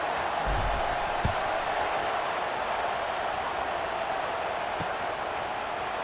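A college football stadium crowd before kickoff, a steady wide roar of cheering and noise that stays loud throughout, with a few faint thumps in the mix.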